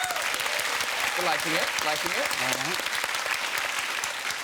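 A studio audience on a chat show applauds to cast a vote, a dense, steady wash of clapping throughout, with a voice speaking briefly underneath.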